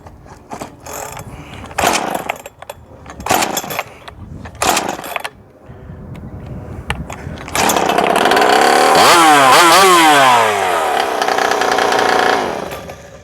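A ported Husqvarna 372XP clone chainsaw two-stroke engine with a modified scooter pipe revs in short bursts, then roars steadily at high speed for several seconds, loud and close, before dropping off.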